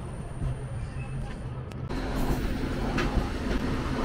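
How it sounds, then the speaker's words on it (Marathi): A Harbour line local train arrives at Panvel as a steady, loud rumble of wheels and carriages, building slightly near the end with faint rail clatter, with no voices. "इथून ती हार्बर लाईनची ट्रेन येताना आपल्याला दिसत आहे."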